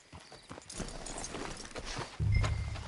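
Horses walking in Red Dead Redemption 2, hooves clip-clopping in a steady uneven patter, joined near the end by a louder low rumble.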